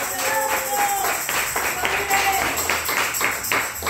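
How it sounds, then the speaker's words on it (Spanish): A church congregation claps and applauds to Jesus Christ in a steady, moderately loud burst, with voices speaking over it. "denle un fuerte aplauso a Jesucristo"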